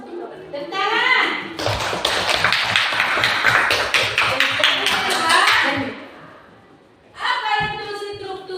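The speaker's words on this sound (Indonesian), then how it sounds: "Tepuk tangan." Students clap their hands together in a classroom during a lesson, a dense burst of close applause lasting several seconds, with a voice talking before and after.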